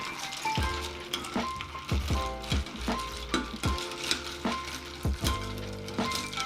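A spoon stirs ice in a glass of Long Island iced tea made with vanilla Coke, giving a loud, steady run of clinks and rattles close to the listener.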